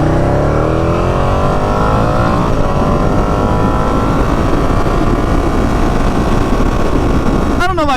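A Ducati Panigale motorcycle roars at high revs while riding, its engine note climbing in pitch in loud, close, continuous passes, with wind rush underneath.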